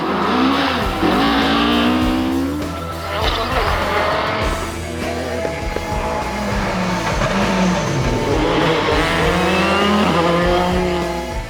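Rally cars race on closed road stages at a round of the Northern Ireland Rally Championship, with engines roaring and revving up and down through gear changes, loud and close, and a voice talking over them.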